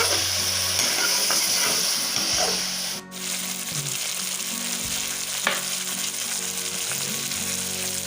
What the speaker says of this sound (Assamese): মাংসটো ফ্ৰাই হৈছে প্ৰায় অলপ